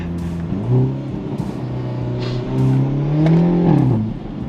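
A Hyundai Elantra N accelerating hard, its engine note climbing through revs, dropping on a gear change and rising again, loud and close, as heard from inside the car.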